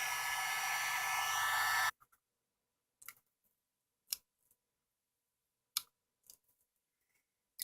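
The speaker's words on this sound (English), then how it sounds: "if you just heat it up, I find that any sort of adhesive, any sort of tape comes off easier when it's been warmed up" A heat gun warming adhesive tape on a Planar PL1900 monitor blows with a steady, loud airy hiss for about two seconds, then cuts off, leaving a few sparse, sharp clicks and snaps in near silence.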